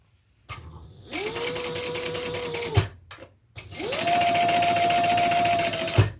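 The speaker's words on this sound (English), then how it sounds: "Now I'm just sewing this together." A sewing machine stitches a handbag together, running in two steady, fairly loud whirring bursts separated by a brief pause.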